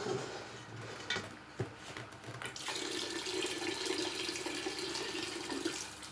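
Liquid pours steadily into a container while making homemade elderflower wine, a continuous splashing flow close by after a few brief knocks, with no talk.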